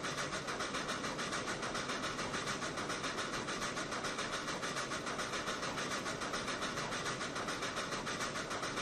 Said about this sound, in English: So, see another train coming in the other direction.